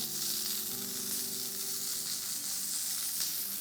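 Chicken skewers cook in a hot pan, a steady, even sizzle close by and fairly quiet, with no talking.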